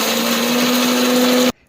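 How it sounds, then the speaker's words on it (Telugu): A kitchen mixer grinder whirs loudly and steadily as it coarsely grinds dried red chillies and tamarind with salt, then cuts off abruptly after about a second and a half. "ఫస్ట్ ఇవి మిక్సీ బరగ్గా పట్టుకోవాలండి"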